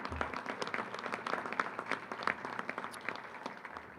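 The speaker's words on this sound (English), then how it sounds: "A round of applause for Heather Payne again." Applause at a college football press conference for Heather Payne, a fairly faint, sparse clapping from a small group, with distinct individual claps rising and falling over a low background.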